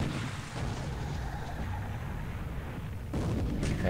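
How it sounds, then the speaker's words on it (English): Torpedo strikes on the cruiser Canberra in a War in the Pacific naval battle, a dense, continuous low rumble of booming impacts, loud and steady throughout, swelling again near the end. "so two torpedo hits on Canberra"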